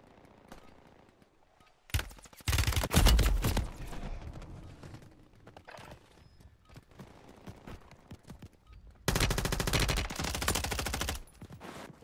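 Video game gunfire in rapid automatic bursts, one burst early and a second sustained burst later, loud and close with quieter game sounds between.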